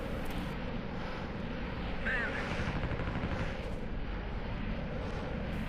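Combat aircraft in the flight simulator game Strike Fighters 2, a continuous loud engine roar with gunfire blending into the dense noise throughout.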